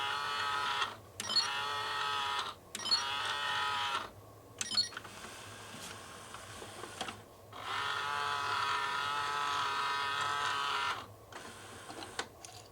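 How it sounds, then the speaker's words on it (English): A stereo CD changer's disc exchange mechanism runs in several whirring motor bursts of a couple of seconds each, broken by clicks and short pauses, close and fairly quiet with no talking. "I want to make sure that the disc exchange works."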